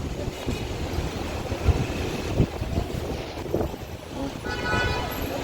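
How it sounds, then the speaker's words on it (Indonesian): Strong wind roars and buffets the microphone continuously during a dust storm in Mecca, with faint voices and a distant tone mixed in the rushing noise. "Tuh, anginnya kenceng banget."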